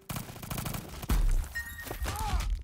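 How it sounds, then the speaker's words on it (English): Cannon fire booms in the Mini Royale video game, a sudden heavy blast about a second in that follows rapid gunfire clatter, with the shots ringing out loud and close amid more scattered firing. "This being cannon fire."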